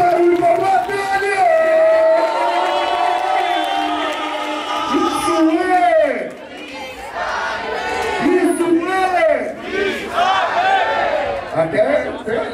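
A loud crowd at a freestyle rap battle cheers and shouts continuously, with whoops and yells rising and falling, and a voice calling out over the din.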